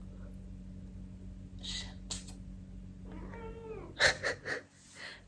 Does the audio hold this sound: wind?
no